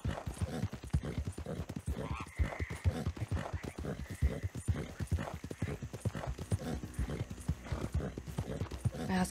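Horse hooves clip-clop at a slow walk in Red Dead Redemption 2, loud and close in an even rhythm, with a brief whinny partway through.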